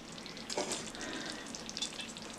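Pork chops frying in a covered pan on a stove set to medium-low, giving a steady, moderately quiet sizzle with a fine crackle that holds for the whole stretch, no voices.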